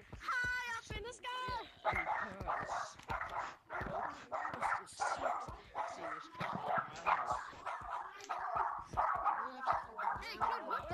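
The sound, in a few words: dog barking in a VR video game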